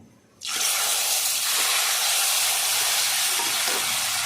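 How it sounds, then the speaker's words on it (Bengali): Black mustard seeds dropped into hot oil burst into a loud, dense sizzle that starts abruptly and then holds as a steady hiss with faint crackles. The tempering is for a sour prawn curry made with raw tamarind. "কালো সর্ষে ফোড়নে দিয়ে দিচ্ছি"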